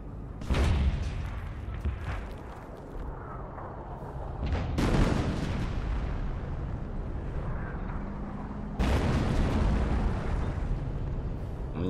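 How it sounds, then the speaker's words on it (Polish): A tank destroyer fires amid explosions in the WWII strategy game Company of Heroes. Three heavy booming blasts land several seconds apart, each trailing into a sustained rumbling battle din. "Tu jest jakiś czołg dziwny, który wszystko niszczy na strzała."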